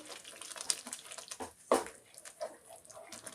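Water splashes and trickles briefly into a pan, with a short gush midway, fairly close and moderately loud, no talking.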